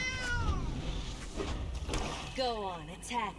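A cat's meows ring out from the Sanctuary Cat card in the Magic: The Gathering Arena video game, several short descending cries near the start and end over game sounds and a low background.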